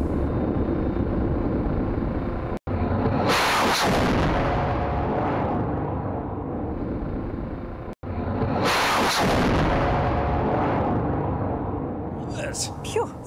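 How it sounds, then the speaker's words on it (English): Australia's first locally designed, built and powered rocket in over 40 years roars loudly at launch, a thundering broadband rumble that swells and fades in two abrupt bursts separated by sharp cuts, with faint crackle near the end. "Launching its very first locally designed, built and powered rocket in more than 40 years."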